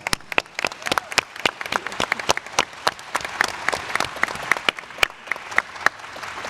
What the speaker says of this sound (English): So I'd like another round of applause for Cheryl.